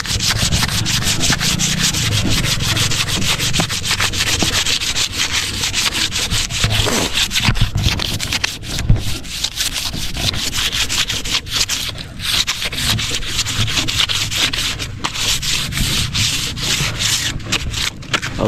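Continuous hand sanding of a wooden surface, smoothing it down rather than stripping away the white paint, with a steady, dense rasping stroke that runs unbroken and fairly loud, nearby and without talk.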